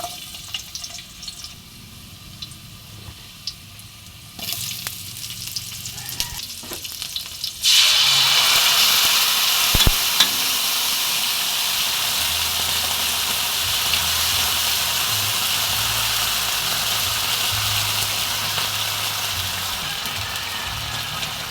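Oil in a wok-style frying pan sautéing ferns and sardines bursts into a loud, close hiss of frying after some quiet clinks, then settles into a steady sizzle with no talk.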